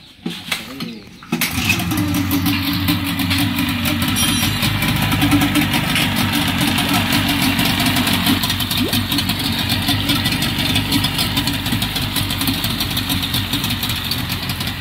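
A 2020 Tohatsu 18 HP outboard boat engine starts after a brief rustle and settles into a steady, close, loud idle, its buzzing drone running unbroken to the end.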